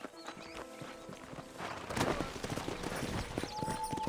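Horse hooves clip-clop in the Western video game Red Dead Redemption, a steady run of close hoof strikes over a soft ambient background, growing a little louder partway through.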